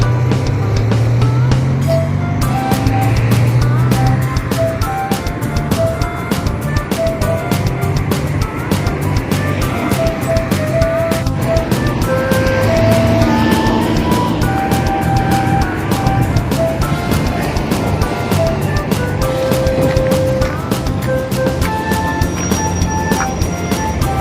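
Dense night street traffic, many vehicles passing continuously with steady engine rumble and scattered horn-like tones, loud and close, no speech.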